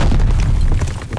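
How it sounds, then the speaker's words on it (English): A grenade blast in the video game Call of Duty Vanguard, a heavy low boom that rumbles on through the whole moment, loud and close, with battle noise underneath. "Throwing grenade! To clear the path with the grenade."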